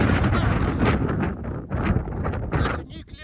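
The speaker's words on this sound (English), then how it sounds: "It's a bit windy up here" Strong wind buffeting the microphone on an exposed hilltop near a nuclear power plant, a loud continuous roar with gusts rising and falling throughout, close and dominant over faint background.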